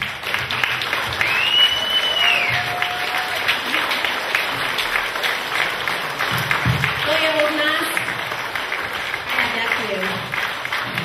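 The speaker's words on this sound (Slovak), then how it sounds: "vážime si váš potlesk" Audience at an end-of-show concert performance in Čachtice claps steadily, a dense sustained applause filling the space for the whole stretch, with a few shouts and whistles rising above it.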